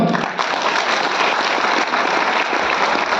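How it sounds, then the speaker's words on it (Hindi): A seated audience at a Hindi health-plan presentation breaks into sustained applause, a dense, steady wash of many hands clapping together at close range for the whole stretch. "आप लोगों ने तालियां बजाई"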